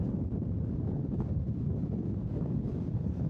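Wind buffeting a microphone on a hilltop, a continuous loud low rumble and roar with gusty fluctuations, close and unbroken, with no voices.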